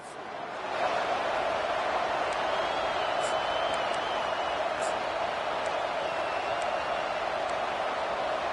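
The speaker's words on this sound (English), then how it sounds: "this crowd coming to life here, trying to help the defense get a stop" Steady roar of a college football stadium crowd at a Gophers–Michigan State game, swelling at the start and then holding a loud, unbroken wash of cheering and noise to the end.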